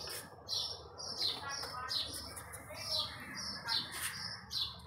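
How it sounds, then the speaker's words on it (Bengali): Birds sing in a garden with bright, repeated chirps and tweets, several short calls in a steady rhythm, fairly close but soft against quiet background noise. "কি সুন্দর পাখি ডাকে"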